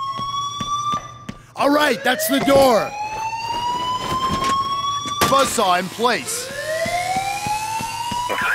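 A heist alarm in the game PAYDAY wails continuously with sweeping tones throughout, while someone talks over it in several bursts.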